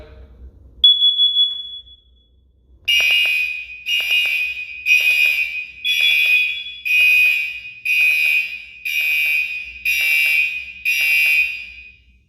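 Carbon monoxide alarm sounding during a fire alarm system test: a brief tone, then a loud, near, repeating pattern of shrill electronic beep bursts with short gaps, continuing steadily without talk.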